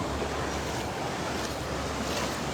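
Ocean surf rolls in at Wildwood Beach on a clear day, a steady, dense wash of breaking waves mixed with gusty wind across the microphone, continuous and fairly loud with no voices.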